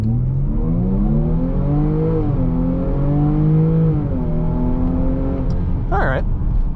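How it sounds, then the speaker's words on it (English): A 2017 Jaguar F-Pace 35T Prestige AWD SUV in sport mode accelerates hard from 0 to 60 mph, heard from inside as a loud engine note that climbs and drops back through several gear changes. "And we will do a 0 to 60 run."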